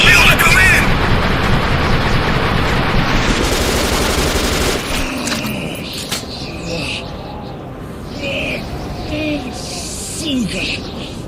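Rapid automatic gunfire and blasts in the Metro shooter, dense and loud for the first few seconds, then thinning to scattered shots and rumbles while voices shout over the fighting.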